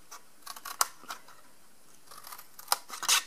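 Scissors cutting away the score line on a card gift box made with an envelope punch board: a few crisp close snips and paper rustles spaced across a quiet stretch, with no speech.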